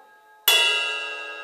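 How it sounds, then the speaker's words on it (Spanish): A drum kit's ride cymbal is struck once on its bell, giving a sharp, bright metallic ping after a moment of quiet, then a long ringing decay that fades slowly. "alternar un golpe en la campana"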